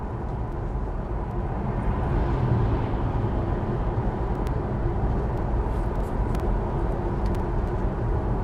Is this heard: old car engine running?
yes